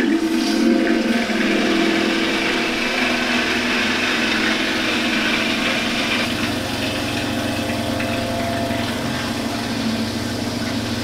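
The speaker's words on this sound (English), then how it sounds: "it's starting to put the micro and nano bubbles into the water" A nano and micro bubble generator fed by a Brown's gas machine producing hydrogen and oxygen bubbles steadily into bath water, giving a continuous churning, hissing wash with a low pump hum and no speech.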